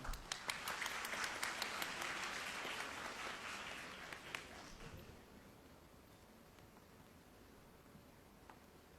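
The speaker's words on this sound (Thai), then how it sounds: "สียงปรบมือด้วยครับ" Audience applause at a television awards ceremony rises at the start with sharp individual claps, then fades over several seconds into quiet room noise, faint and distant overall.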